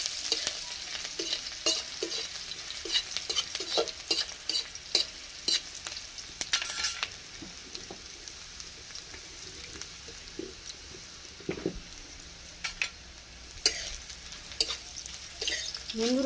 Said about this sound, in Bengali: পেঁয়াজটা একটু লাল লাল ভাজবো।